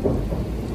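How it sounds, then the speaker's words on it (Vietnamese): A deep rumble of thunder rolls under heavy rain, the low roar loud and sustained through the brief moment with rain hissing across it. "trời gầm quá chừng gầm luôn á"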